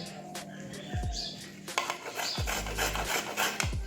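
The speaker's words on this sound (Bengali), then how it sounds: "তো এই যে এভাবে সব ঘষে নিচ্ছি এভাবে সব ঘষে নেবো ওই থালার মধ্যে" Indian gooseberries (amla) are rubbed by hand over a metal grater into a plate, giving close, rhythmic rasping strokes with light metallic scrapes that repeat every second or so, and no voices.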